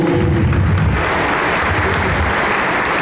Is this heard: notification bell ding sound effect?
no